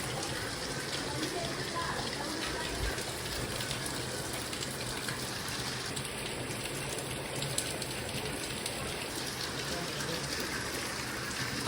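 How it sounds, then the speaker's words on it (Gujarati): Steady, dense hiss of heavy rain pouring continuously throughout, with a faint voice now and then beneath the downpour. "જોરદાર વરસાદ થયા"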